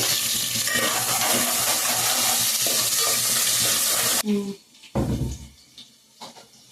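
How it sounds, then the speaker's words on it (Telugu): Onions and green chillies frying in hot oil for a beef and gongura dish: a loud, dense, close sizzle with stirring runs for about four seconds, then drops away to quieter clatter and scattered knocks. "ఉల్లిపాయలు పచ్చిమిరపకాయలు బాగా వేగిన తర్వాత మాంసం అయితే వేసి వేద్దామండి"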